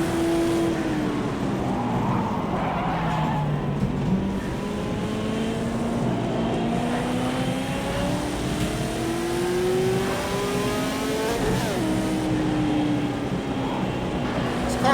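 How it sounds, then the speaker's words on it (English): A racing car engine in a sim racing video game wails continuously, pitch rising and falling through repeated gear shifts, loud and steady throughout with no voices. "This car sounds amazing."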